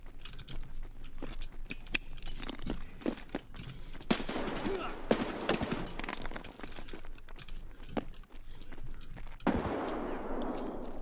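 M4A1 rifle fire in a video game comes in rapid automatic bursts and scattered single cracks, with some louder blasts, and a voice talks between the shots.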